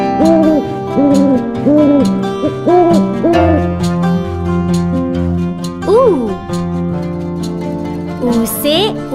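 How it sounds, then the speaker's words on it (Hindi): An owl hoots in a children's Hindi alphabet lesson, several clear, loud, rhythmic hoots in quick succession, followed by brief tinkling sounds. "ऊ से उल्लू।"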